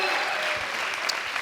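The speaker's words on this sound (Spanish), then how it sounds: "creo que este primer aplauso, ahora me da por leer aplausos, creo que es de agradecimiento" Studio audience on a Spanish late-night talk show applauds a guest's arrival, a full, even burst of clapping from many people that carries through without speech.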